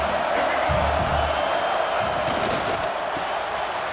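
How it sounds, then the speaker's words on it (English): A stadium crowd at a Michigan college football game roars steadily, a loud, continuous, dense cheer with scattered whoops that holds throughout without letup. "This crowd trying to make life miserable for this offense."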